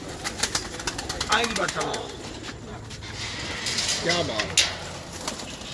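Soft cooing from a loft of prize pigeons, several birds all the same colour, heard under someone talking nearby, with a few light wing flutters.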